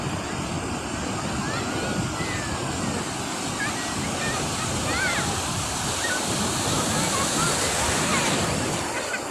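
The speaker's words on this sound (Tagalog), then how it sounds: "Halika, malaki yung alon! Malaki yung alon!" Large waves break and wash onto the shore at Lingayen beach in Pangasinan, a steady, loud roar of surf with wind noise on the microphone throughout, while excited voices call out over the water.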